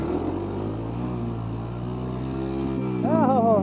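A Honda 350 motorcycle engine running while stuck in deep ice, a steady, droning mid-pitched idle that suddenly revs higher and louder near the end as the bike slips out of gear.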